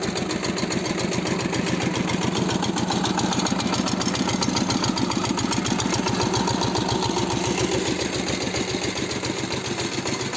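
A Kentavr 160V walk-behind tractor hitched to a large trailer runs close by, hauling weeds out of a garden plot; its engine chugs in a steady, even rhythm from start to finish with no talking.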